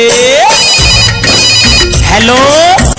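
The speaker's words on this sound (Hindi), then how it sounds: "मैंने फोन लगायो कान्हा को कछु भेद ना पायो" A loud mobile phone ringtone plays a rising electronic melody with steady tones, repeating in short bursts over a backing beat during a stage performance.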